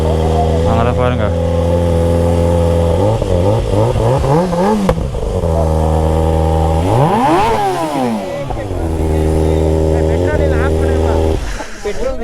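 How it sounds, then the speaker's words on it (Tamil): A loud superbike engine revs up and down repeatedly, rising and falling in pitch, with sharp pops and crackles from the exhaust between revs. "எக்ஸாஸ்ட் பார்த்தீங்கன்னா டமால் டமால்னு வெடிக்குது."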